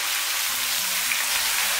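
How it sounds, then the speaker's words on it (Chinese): Oyster mushrooms stir-fry over high heat in hot oil with ginger, garlic and chili, giving a loud, dense, even sizzle up close with no voices. "炒香以后，再把平菇给倒进来，开大火给它翻炒均匀"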